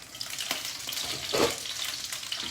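Vegetables sizzle steadily in a pan at close range, with a few soft stirring scrapes and bursts of louder frying over a constant crackling hiss.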